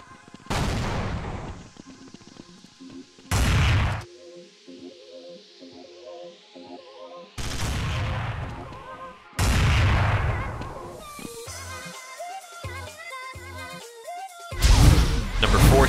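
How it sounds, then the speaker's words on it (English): Gunshots in Counter-Strike tournament play at an ESEA LAN, several loud, separate booming rifle blasts spaced seconds apart, with quieter game sounds and music between them. "Only a professional player like XP3 will hit those shots"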